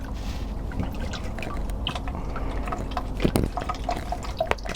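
Liquid draining and dripping from a removed RV macerator pump in an Airstream Interstate 19 camper van, a steady close trickle with scattered drips and small splashes, fairly loud, no talking.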